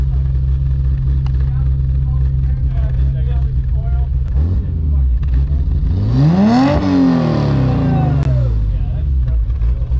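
A BMW E30 engine runs with its fuel pump activated, holding a steady, loud idle before rising into a brief rev and settling back down, with voices faintly under the engine noise.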